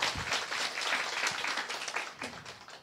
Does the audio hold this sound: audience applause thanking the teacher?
yes